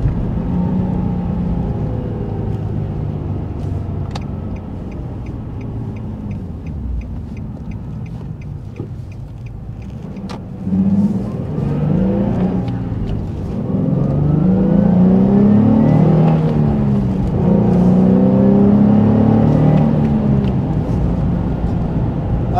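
A 2003 Nissan 350Z Track Edition with a manual gearbox drives along, its engine droning loud and close inside the cabin, easing off mid-way and then revving up through rising and falling pitch sweeps as it accelerates, with no talking.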